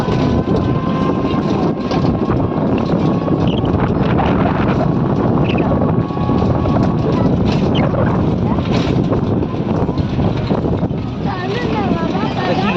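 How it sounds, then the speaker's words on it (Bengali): Cold breeze blowing off a wide river at Bakkhali, a steady loud windy rush buffeting the microphone throughout, with boat or engine drone underneath. "ঠান্ডা হাওয়া না নদীর হাওয়া"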